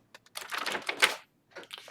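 A stack of paper order envelopes is flipped through by hand, giving soft papery rustles and riffles: a few small ticks, then a longer shuffle, a pause and more brushing, all close and quiet.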